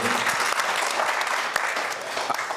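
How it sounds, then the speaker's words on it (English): A press-conference audience at the 2019 Bermuda ITU World Triathlon gives four athletes a round of applause: dense, lively clapping from a roomful of people that carries through and tapers slightly at the end. "A round of applause, please, for these four athletes who have joined us this afternoon."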